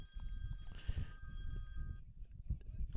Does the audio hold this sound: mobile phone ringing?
yes